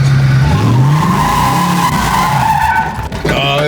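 Loud, close tire squeal from a car doing donuts, a sustained skidding screech with shifting pitch that fades near the end before a brief new squeal.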